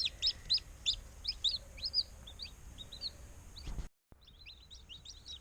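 Newly hatched Ayam Cemani chicks chirping, a rapid series of high, sharp peeps in quick bursts, close and clear, cutting out briefly before more peeping resumes.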